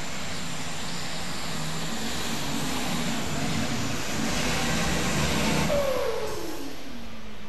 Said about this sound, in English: In this pull-off, building up the RPM, and he gets the launch.